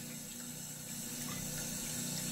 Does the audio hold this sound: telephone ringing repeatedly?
no